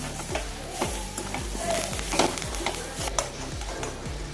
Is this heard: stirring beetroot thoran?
yes